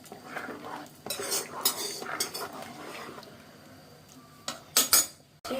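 Sambar with radish is stirred in a pressure cooker, the spoon clinking and scraping against the metal in quick bursts, close and moderately loud, with a quieter stretch before a few final sharp knocks.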